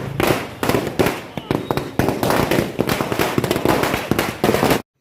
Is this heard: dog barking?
no